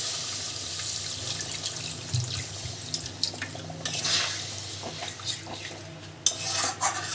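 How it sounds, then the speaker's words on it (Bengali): Potato and spice masala for jackfruit kofta curry gets a splash of water in a pan, followed by wet stirring and scraping, with occasional clinks of a utensil against the pan, close and steady. "এর মধ্যে একটু জল দিয়ে দেবো"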